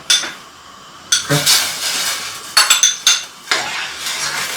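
A spoon clinks and scrapes in a pan as chilli jam ingredients, with shallots, are stirred lightly, in several short metallic bursts close up with brief pauses between.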